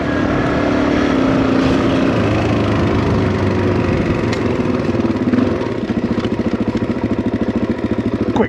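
A Suzuki DRZ400e motorcycle engine idles close by, a steady low chugging drone that shifts to a faster pulsing beat near the end, loud and continuous with no talk.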